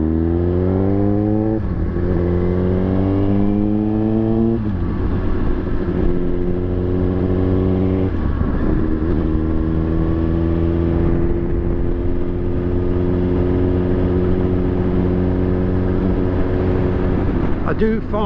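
Suzuki motorcycle being ridden, its engine note rising and falling through repeated gear changes as it accelerates, loud and steady throughout with a faint voice underneath.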